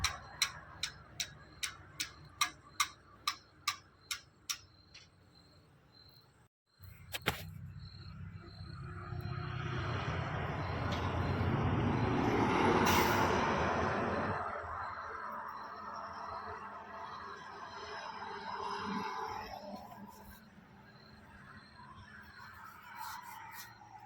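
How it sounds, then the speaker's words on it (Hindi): A chain pulley hoist draws a Tata truck gearbox into place during a repair, starting with a steady run of evenly spaced ratchet clicks, then a sustained loud grinding, rushing strain that swells and fades. "चैन पुली से मैं टान के इसको अंदर खींच रहा हूँ"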